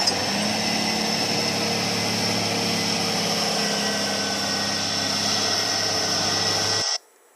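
Motor grader engine idling on a road worksite: a steady, loud, continuous diesel rumble with a droning hum and high whine, holding constant for about seven seconds before cutting off abruptly.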